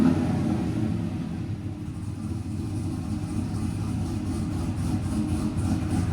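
A cammed Chevy 5.3L V8 fitted with headers and Flowmaster 50 mufflers idles steadily, a deep, loud, continuous rumble with a choppy low pulse that holds close and even throughout, no voices.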